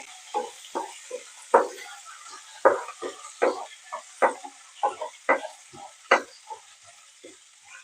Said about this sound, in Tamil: அப்புறம் கொஞ்சம் கொத்தமல்லி இலை, இது போட்டு நல்லா வதக்கிக்கலாம்.